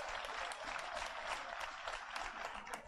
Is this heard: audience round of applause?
yes